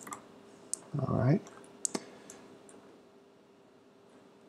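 A computer mouse clicks sharply a few times in a quiet room, the isolated clicks spaced apart, with a brief spoken phrase in the middle.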